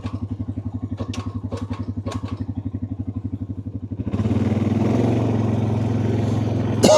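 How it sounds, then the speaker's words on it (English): A serviced quad bike engine idles close by with a steady, even throb, then revs up at about the midpoint to a louder, rougher, sustained roar, with no talking. "Just had this quad bike serviced."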